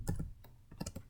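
Quick keystrokes as code is typed on a computer keyboard, several light, close taps in a short uneven run with no talk.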